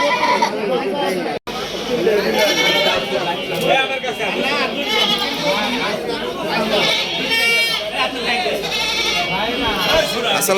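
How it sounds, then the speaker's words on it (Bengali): Crossbred goats bleat repeatedly at a busy Eid livestock market, their cries rising over constant crowd chatter and nearby talking voices. "দেখেন ক্রসের ছাগল একটা"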